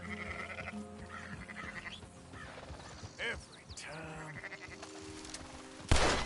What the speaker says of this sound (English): Herd a flock of sheep.